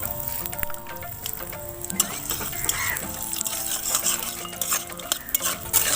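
Peanuts with a dried red chilli frying lightly in hot oil in a pan, a soft steady sizzle under repeated scraping and clinking of a spoon stirring against the pan.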